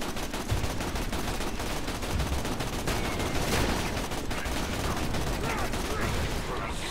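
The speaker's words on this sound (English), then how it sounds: "So we're gonna shoot the Goliath, but we're not gonna shoot its head." Continuous rapid gunfire in the video game Borderlands 2 as a player shoots a Goliath enemy, dense loud bursts filling the whole stretch with voices mixed in underneath.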